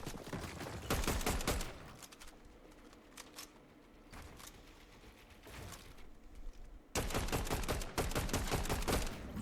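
Gunfire in a Fortnite match, dense rapid bursts of shots at the start and end with scattered single cracks between, loud and close with no voices.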